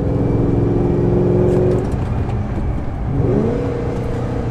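A Ford GT's 5.4-liter supercharged V8 revs hard and climbs in pitch, drops back, then rises again in a second loud, close pull.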